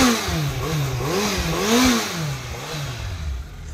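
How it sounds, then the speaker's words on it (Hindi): A superbike on its stock exhaust revs up and down in a few rising and falling sweeps, loud and close, with a rough engine tone and some mechanical clatter and no voices. "स्टॉक एग्जॉस्ट सुनिया चलो"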